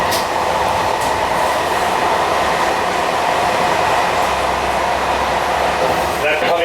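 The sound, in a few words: train passing through Châtillon station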